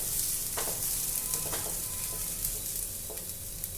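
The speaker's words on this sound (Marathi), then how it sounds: "आता हे कांदा छान परतून घ्यायचा आहे आपल्याला थोडा लालसर होईस्तवर" Onion sautéing in a pan for a vag cheese frankie, a steady soft sizzle and frying hiss with occasional stirring scrapes throughout, close and fairly quiet, no talking.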